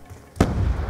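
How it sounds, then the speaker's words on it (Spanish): A grenade blast in Black Ops 2 lands as one sudden loud boom, followed by a rumbling, crackling tail that fades slowly. "Oh, no le mató la granada, qué pena."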